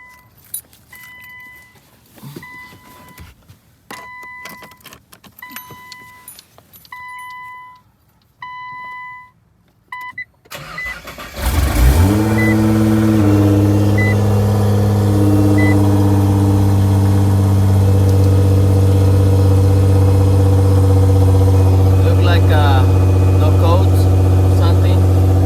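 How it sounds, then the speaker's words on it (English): A car engine cranks and fires up after a transmission refill, then settles into a steady idle; before the start come quiet jingling keys, scattered clicks and several dashboard chimes. "So I'm gonna start the car"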